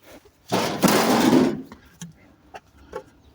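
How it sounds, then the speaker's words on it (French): A small door is knocked on with a few light, separate raps about half a second apart, following a louder burst of broad rustling noise. No one speaks. "On va toquer à porte à Paul."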